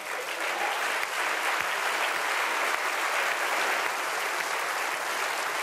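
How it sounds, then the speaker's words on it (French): Steady, dense applause from a large audience at an awards ceremony, the Magritte film awards, sustained and even throughout with no pauses. "je pense qu'on peut l'applaudir"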